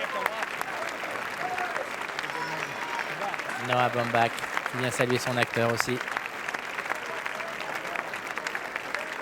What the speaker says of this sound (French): Un long moment d'applaudissement